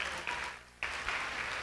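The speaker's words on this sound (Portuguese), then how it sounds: "minha convidada, Simone, uma salva de palmas para ela." Steady crowd applause at a church youth service, a dense wash of clapping that dips briefly in the middle before surging back at full strength.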